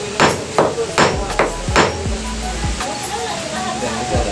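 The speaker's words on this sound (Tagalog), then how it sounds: "Pinupukpok na." Hammer strikes pounding in a steady rhythm, about eight close, sharp thwacks over a continuous rushing background noise, slowing and softening toward the end.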